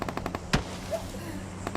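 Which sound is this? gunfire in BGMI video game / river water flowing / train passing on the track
gunfire in BGMI video game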